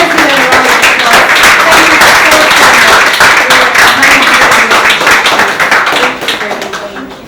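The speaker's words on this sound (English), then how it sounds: "Let's give them a round of applause." Audience at a 2019 volunteers award ceremony breaking into loud, close applause with distinct individual claps, sustained for several seconds before thinning out and fading toward the end.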